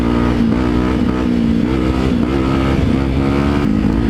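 A motorbike engine revs hard and continuously as it is ridden through water, loud and close, with a rough, slightly wavering drone and no voices.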